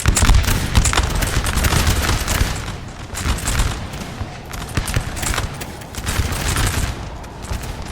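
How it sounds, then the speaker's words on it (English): Massed musket volleys roll out in a Napoleonic-era battle at Eylau, 1807, in the strategy game Napoleon Total War 3, a dense unbroken crackle of many shots that swells and eases over eight seconds with no voices. "we're getting good volleys off"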